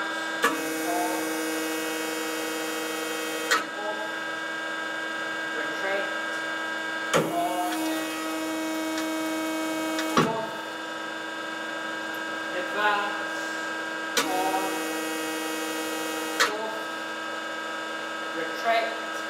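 An Everizing bandsaw in manual mode hums steadily while its vise advances and retracts, with sharp clunks roughly every three to four seconds as the vise stops and reverses, close and continuous throughout.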